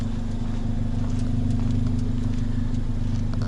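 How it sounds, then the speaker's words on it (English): A Ford Focus ST with a Ford Performance sport exhaust burbles steadily at idle, a deep, throaty, low rumbling pulse that stays constant and close throughout. "oh my god, this exhaust sounds so good."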